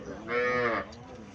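A Sahiwal cow at a cattle market lets out a single loud, close moo lasting about half a second, with quieter background noise before and after.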